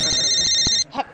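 A telephone rings loudly in a home setting in a comedy episode, a continuous electronic ring that cuts off abruptly, followed by a brief voice.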